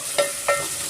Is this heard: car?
no